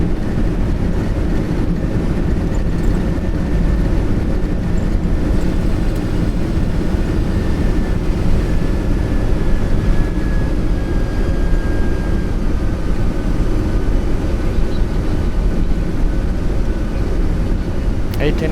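Engines of a Boeing 747-200 in reverse thrust while landing, heard from the cockpit as a loud, steady, broadband roar with a faint high whine sliding across it, continuous throughout.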